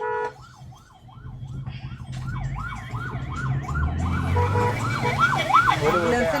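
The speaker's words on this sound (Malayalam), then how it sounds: "ആംബുലൻസിന്റെ സൗണ്ട് കേട്ടപ്പോ ഞാനൊന്ന് മിണ്ടാണ്ടായി പോയി." An ambulance siren wails in a steady rising and falling pattern as it passes on a rainy road, loud and growing louder toward the end over rain and traffic rumble.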